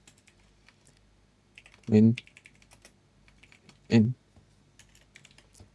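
Light, rapid clicking of computer keyboard keys while code is typed in Roblox Studio, soft and close, broken by two short bursts of someone speaking.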